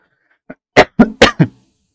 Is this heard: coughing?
yes